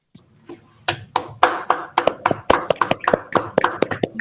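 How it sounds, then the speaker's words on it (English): Applause from a small audience begins sparse and quickly builds into a steady run of close, crisp claps in a quiet indoor room. "So please give a big round of applause for Monish."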